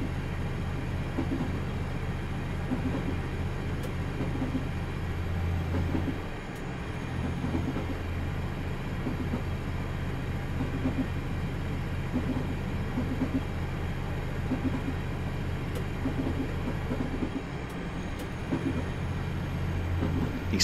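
Class 150/1 diesel multiple unit coasting with power idled in Train Simulator 2017, approaching a stop between Barking and Gospel Oak: a steady low engine drone and rail rumble throughout, with a brief dip midway and no talk.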